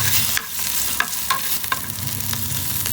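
Turmeric frying on low heat in a pan gives a steady sizzle, broken by several sharp scrapes and taps of a spoon stirring against the metal; no one speaks.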